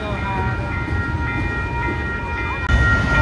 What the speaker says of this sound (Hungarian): Csuklós vonatok.